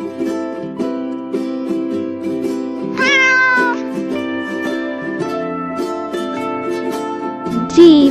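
A short meow rises briefly over steady musical accompaniment, followed near the end by a second quick cat cry.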